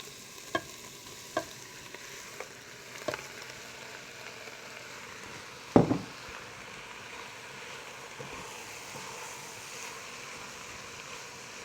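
Two pounds of hamburger meat sizzle steadily in a pan, with occasional scrapes and clacks of a utensil stirring it and one louder knock midway, close and alone without talk.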